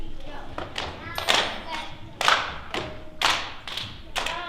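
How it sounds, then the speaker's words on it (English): A children's hand-clap ostinato performed at an elementary school spring concert, with irregular bursts of claps and taps and voices speaking throughout. "we have a rhythmic ostinato right here in the middle with hand claps"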